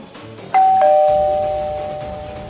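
A doorbell in a home setting rings once with a bright two-tone ding-dong that rises sharply and then slowly decays over a couple of seconds, heard alone and fairly loud.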